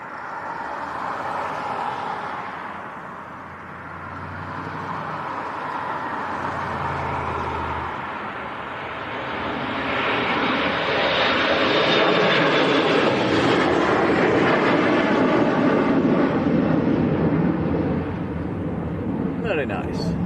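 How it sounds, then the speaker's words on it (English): KLM Embraer E175 jet taking off at Leeds Bradford Airport on a windy day, a broad roar that swells and sustains as the engines power up, heard at a distance with wind noise and occasional talk. "Right, here goes KLM to Amsterdam. Embraer"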